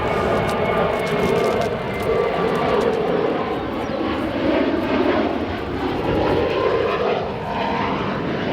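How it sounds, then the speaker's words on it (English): A jet aircraft takes off on runway 28 Right at Chicago O'Hare International Airport, a loud continuous broadband engine roar that swells and eases slightly while holding steady throughout, with no voices. "This aircraft, November 717 November Kilo, departing on runway 28 right now."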